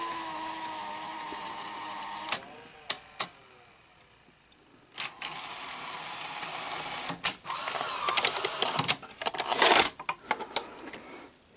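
The motor of a PAL Betamax VCR labours while rewinding tape, giving uneven whirring and clicking mechanical noise with sharp clunks, building in loudness and strain toward the end.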